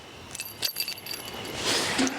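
Central key for a Hobby Maxia 495 UL caravan trailer jangling and clinking on its ring, a few light metallic chinks close by, followed by a brief soft rustle, with no talking.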